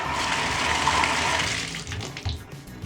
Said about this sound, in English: it's going to let the water drain, but it's going to catch all the hair around the steel wool